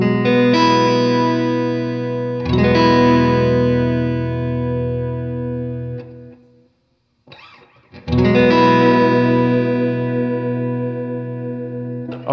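A sustained electric guitar chord rings through an Electro-Harmonix Deluxe Memory Man pedal with chorus, shimmering and wavering, then decays and is struck again after a brief near-silent gap, loud and up close with no voices.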